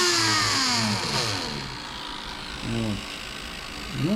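A cordless Dremel 8200 rotary tool is throttled up to maximum speed, producing a whining motor tone whose pitch sweeps and shifts, with brief rising surges toward the end.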